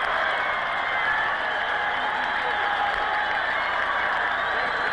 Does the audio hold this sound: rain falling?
no